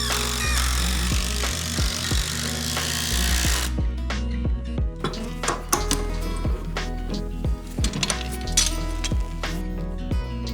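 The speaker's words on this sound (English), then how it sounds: "When you're driving in big screws like these, there's a lot of friction, so the wax will ease them in, giving you a good strong fixing." Big waxed screws are driven into pallet wood while building a kindling chopping block, giving a run of sharp clicks and knocks of a driver biting in, loud and close, with metallic clinks scattered between.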